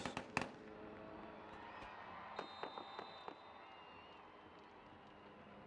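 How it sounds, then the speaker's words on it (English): Fireworks burst at a soccer stadium in Las Vegas to signal kickoff, with a few sharp distant pops and crackles over faint crowd ambience. "And our America First Credit Union fireworks signal the start."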